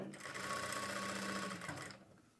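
A sewing machine stitching fabric during tailoring work runs in a steady, close, loud whir for about two seconds, then stops abruptly.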